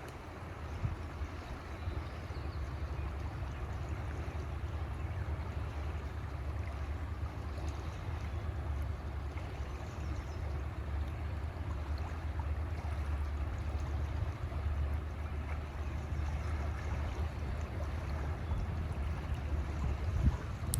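Water and wind near the Cascade Mountains foothills form a low, soft, continuous rushing wash that holds steady and faint throughout, with no voices.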